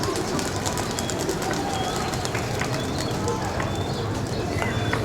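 Pigeons in a loft during a racing-pigeon breeder's interview, faint cooing and soft flutters under a steady noisy background, with people talking nearby.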